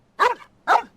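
Two short, close dog barks sound from Genshin Impact, evenly spaced with a brief pause between them, clear and alone with no talk.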